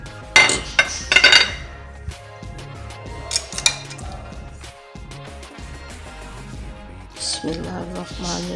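Salad with dried fruit being tossed in a bowl, utensils clinking and scraping against the dish in irregular close bursts, busiest at the start and again near the end.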